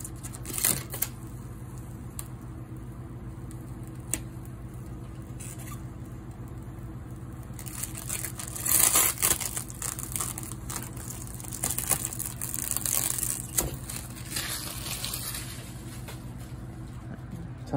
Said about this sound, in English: Time to peel off like the plastic before I forget later.